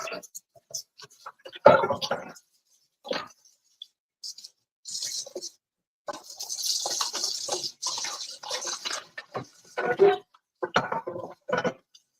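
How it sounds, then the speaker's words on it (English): Skillet being washed at a kitchen sink: running water hisses in bursts among scattered clinks and scrubbing knocks, with a voice briefly humming. "Just have to wash my skillet."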